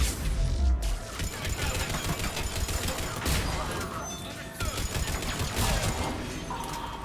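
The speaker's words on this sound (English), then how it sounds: "Oh, that's a grenade, like, on top of me." Combat in the shooter game Mass Effect 3 with a grenade going off close by, amid dense rattling gunfire, crashes and mechanical clatter, loud and continuous with heavy low thumps.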